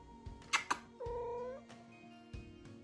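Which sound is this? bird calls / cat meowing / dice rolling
cat meowing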